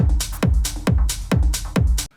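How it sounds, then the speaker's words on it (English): A soloed drum group plays a steady pattern of punchy kicks and bright snare and cymbal hits, loud and dry, with about five strikes in two seconds. "I'm going to solo the drums. They sound like this."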